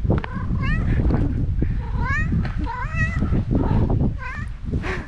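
Several stray cats in a park meow close by in quick, overlapping calls, a chattering run of short rising and falling meows that barely pauses.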